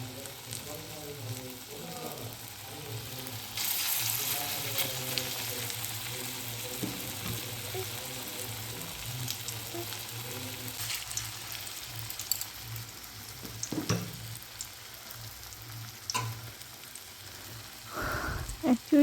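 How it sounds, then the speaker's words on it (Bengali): Raw banana kofta balls fry in hot oil, a steady close sizzle and bubbling that grows busier as more balls drop in, with soft clinks of a utensil near the end. "আমি তেলে ছেড়ে দিচ্ছি।"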